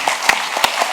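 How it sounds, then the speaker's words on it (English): A debate audience applauds the candidates with a brief burst of close, sharp claps and a few distinct slaps over a steady wash of clapping. "Let's give these candidates a round of applause."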